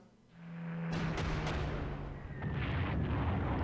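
Heavy explosive blasts of a torpedo attack against a carrier in the Panzer Corps strategy game, set in Operation Sea Lion at Lyme Regis, roar as a sustained loud rumbling burst that fills the whole stretch without speech.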